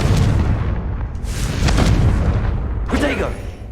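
The Confringo blasting spell in a Harry Potter video game going off as a loud, deep booming explosion that rumbles on for a couple of seconds, followed by a short voice.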